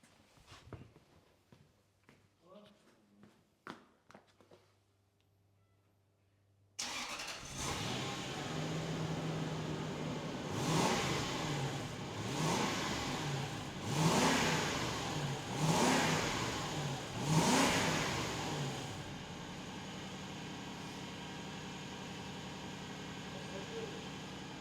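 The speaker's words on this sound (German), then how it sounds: "Das Auto ist im Kaltstart." A 4.2 litre V8 car fires up from a cold start after a few quiet moments, settling into a loud idle and then several rising revs, with voices talking faintly beforehand.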